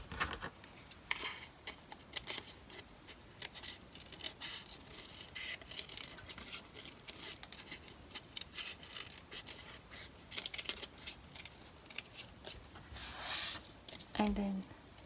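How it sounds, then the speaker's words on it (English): Scissors snip and rasp through an altered playing card in a steady run of small, close cuts and rubbing strokes, with a voice talking over the cutting. "this circular one, I just do a cut like that"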